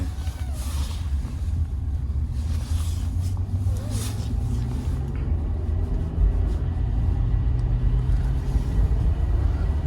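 A Toyota Avalon cruises along the road, giving a steady low rumble of engine and tyre noise from inside the cabin, with faint voices now and then.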